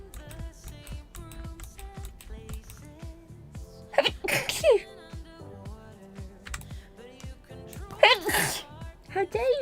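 Two loud sneezes about four seconds apart, close to the microphone, under rapid keyboard clicking, with a person talking during the Minecraft Bedrock game.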